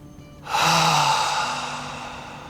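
A single deep, breathy exhale during a yoga breathing exercise, close and clear, swelling quickly then slowly fading out.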